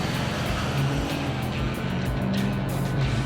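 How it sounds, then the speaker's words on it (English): A diesel-swapped Ford Torino wagon launching at a drag race, tires spinning under a loud, continuous rumbling engine drone with rough low-end pulsing throughout. "Oh no, I spun the tires bad"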